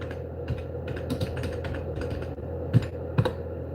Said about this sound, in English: And you type in rear projection screens.